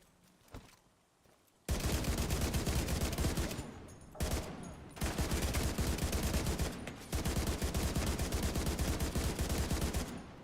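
Dense bursts of automatic gunfire in Division 2, loud rapid fire in three long volleys separated by short pauses, after a quiet start.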